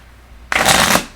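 Tarot cards riffled in one quick shuffle, a dense papery burst of about half a second that starts abruptly after near silence, close and fairly loud.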